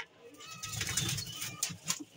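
Sambhal kaldum pigeons make soft, close wing flaps and faint coos over a couple of seconds, quiet and brief.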